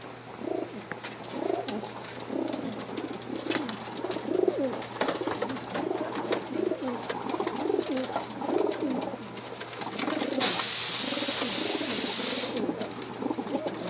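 Teddy pigeons, including a female from Pakistan, coo in repeated soft low calls close by, with a brief hiss of noise toward the end.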